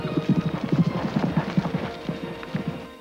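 A horse's hooves clip-clop in a quick, steady rhythm close by, with a whinny mixed in, while a voice speaks over part of it.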